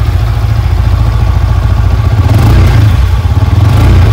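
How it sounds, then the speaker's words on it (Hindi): A 2023 Yamaha R15-S V3 OBD2 motorcycle running low on petrol, its engine idling close by with a steady, loud, rapid low throb and a slight swell near the end, no talk. "तो अभी आप इसकी आइडल साउंड को सुन सकते हैं।"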